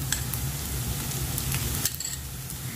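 Ginger garlic paste sautés with shallots in a pan, a close, even sizzle with a couple of light scraping stirs, brief and continuous.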